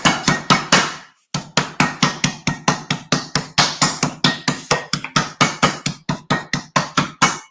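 Rapid, evenly spaced thuds from a meat hammer pounding chicken under plastic wrap, close and loud, with one brief pause before the strikes resume; no talking.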